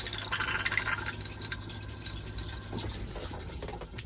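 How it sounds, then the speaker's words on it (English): A Swift Escape 674 motorhome cassette toilet flushes: a quiet rush and trickle of water filling the bowl, recorded close up in a small space with no speech. "Once you've finished using the toilet, you give a good flush."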